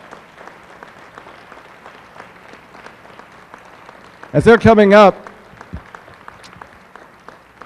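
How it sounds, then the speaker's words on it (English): A brief burst of applause for award recipients at a chamber banquet, loud and dense for under a second, starting after someone speaks over a quiet room, with faint talk continuing afterward. "give them a big round of applause"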